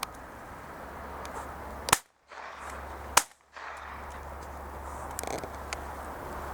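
Two sharp shotgun blasts ring out about a second apart while shooting at decoyed pigeons over a field of laid barley in June, each crack cutting through steady outdoor ambience.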